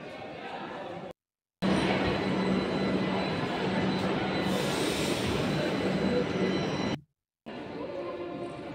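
A metro train rumbles and screeches through Dakshineswar metro station, wheels squealing loudly for several seconds between brief cuts, the roar close and continuous.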